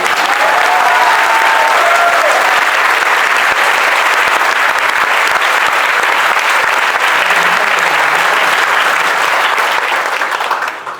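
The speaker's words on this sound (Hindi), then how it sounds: "और तालियां रुकनी नहीं चाहिए," Prolonged, vigorous clapping fills a hall of students and parents at a coaching academy ceremony, a steady wash of hands that holds loud for about ten seconds before tapering slightly at the end.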